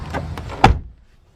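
A van's door is pulled shut with a single solid thud after a couple of softer rattles, close by and then fading into quiet.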